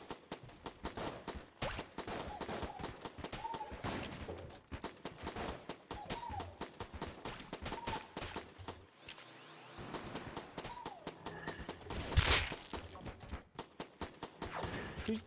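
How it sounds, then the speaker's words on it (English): Constant gunfire and weapon clatter in the Enter the Gungeon video game, with a sharp, louder impact burst standing out near the end like a headshot effect amid the steady shooting. "it was just a headshot noise"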